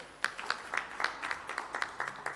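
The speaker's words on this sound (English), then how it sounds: "I will give him a round of applause again." Sparse round of applause at a corporate annual general meeting in Nigeria, a handful of individual claps in a loose, uneven rhythm, moderately close in a large room.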